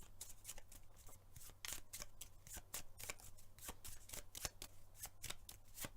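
Tapestry board game cards being shuffled, a steady run of crisp riffling snaps and flutters repeating close by for several seconds over a faint low hum, with no talking.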